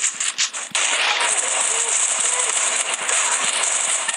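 Shotgun fire in the mobile battle-royale game Free Fire: a sharp crackling blast opens, then dense rapid crackle and clicks run on steadily, loud and close, with a few more sharp cracks.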